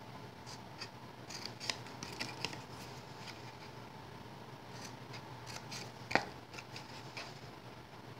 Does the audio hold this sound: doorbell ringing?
no